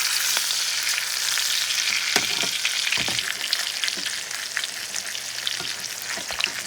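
A rosemary lamb rack sears fat side down in a pan with melting butter, giving a loud, continuous close sizzle with crackles and occasional clacks of a utensil against the pan.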